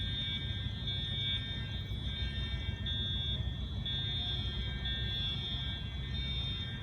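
Genesis fire alarms sound at Seaport Village, a steady high-pitched electronic tone with repeating pulses over a constant low outdoor rumble, moderately distant and without talk.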